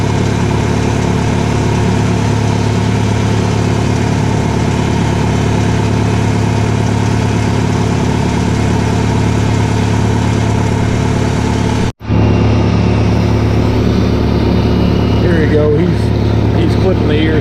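A 661 chainsaw burns through a tree, its engine a loud, continuous droning whine that breaks off abruptly for an instant, then picks back up at a similar level.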